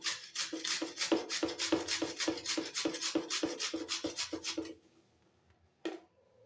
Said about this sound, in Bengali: কালারের জন্য বিটটাকে গ্রেট করে নিচ্ছি কাটারে।